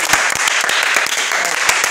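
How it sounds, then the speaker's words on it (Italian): A group bursts into brief, lively applause, many hands clapping densely and close by in a short, steady wash. "Un applauso a tutti."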